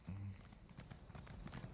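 Faint, quick horse hooves clip-clop in an irregular riding rhythm in The Elder Scrolls Online, set in Western Skyrim, over a soft background.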